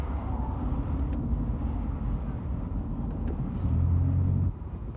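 A 1988 Pontiac Bonneville SSE driven hard through a cone course, a continuous low engine rumble that swells briefly near the end before dropping off, heard from inside or close to the car.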